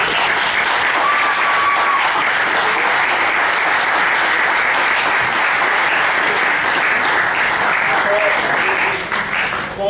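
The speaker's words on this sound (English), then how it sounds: "So just a round of applause for the kids," Sustained applause from an audience honoring youth players and their coaches at an academy awards event, dense and steady for the whole stretch, with faint voices and a whistle-like tone briefly audible within the clapping.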